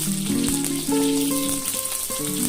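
Eggplant, potato and Malabar spinach stems fry in a pan with a loud, steady sizzle and hiss, while a melodic tonal background sound plays throughout.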